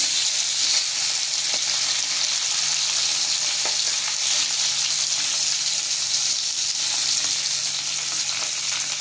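Fish fries in hot oil in a pan, giving a loud, steady, continuous sizzle from close by with no voices.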